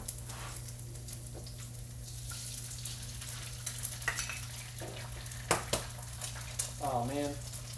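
Eggs sizzle and crackle in a hot pan, a steady frying hiss with light clinks of utensils, while a voice briefly talks over the cooking.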